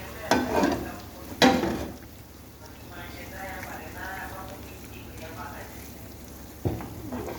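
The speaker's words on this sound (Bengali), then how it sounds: "এই যে রসুন, পেঁয়াজ, শুকনো মরিচ ভাইজা তেল দিয়ে বাগার দিতে" Garlic, onion and dried chili fry in oil for a khichuri tempering, a soft continuous sizzle broken by a few sharp clanks of a utensil against the pan, with a person talking over it.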